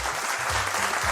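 Steady, dense applause from an audience fills the moment, even and sustained throughout, while a low voice murmurs underneath.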